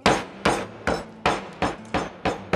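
A hammer strikes in a kitchen during cooking, landing about seven sharp, evenly spaced blows close to the microphone, each one fading quickly before the next.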